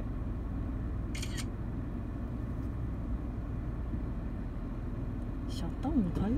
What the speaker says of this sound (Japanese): シャッター音変えようかな、なんかピローンって。